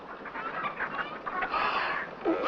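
A brown hen clucks in a farmyard scene from a classic Western, with a run of soft, moderately close clucks and chatters that rise a little toward the end.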